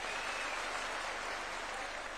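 Applause from the audience at a State House gathering with village elders, a continuous faint wash of clapping heard from a distance and not interrupted.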